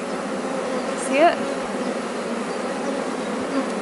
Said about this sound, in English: there's a bee just emerging from its cell there